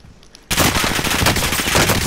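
Loud, close video game gunfire opens suddenly after a quiet moment and keeps going as a dense, rapid burst of shots.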